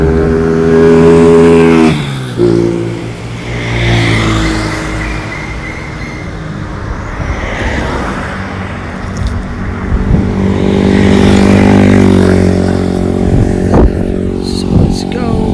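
A motorcycle speeds past on a street in Kuala Lumpur, its engine revving loudly up close amid heavy traffic noise as vehicles pass, with a voice talking over the roar.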